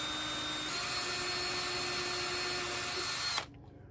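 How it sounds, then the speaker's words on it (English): A power drill bores a pilot hole into a walking stick, a steady high-pitched whine running close and loud for about three and a half seconds before cutting off abruptly, with no talking. "So we'll drill that pilot hole"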